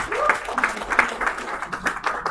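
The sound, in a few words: audience of women and mothers applauding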